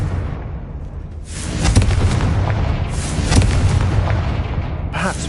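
Confringo fire spell explosion in the video game Hogwarts Legacy: a loud, sustained fiery blast with bursts of crackling booms, swelling after a brief quieter start and staying dense throughout with a fresh burst near the end.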